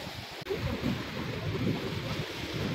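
Steady wash of sea waves with a constant rushing roar and some wind buffeting the microphone, continuous and fairly loud.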